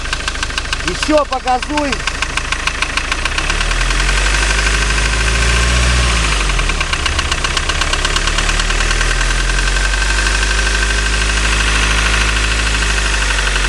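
A 2007 Ford Transit engine runs with a steady, rapid mechanical knock of unknown origin ticking over its idle, and the revs briefly rise and fall; someone speaks a few words near the start.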